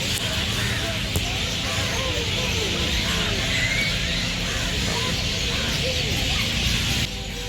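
Many birds calling together from a tree in the evening, a dense, steady chorus of overlapping chirps under constant background hum and traffic-like noise throughout.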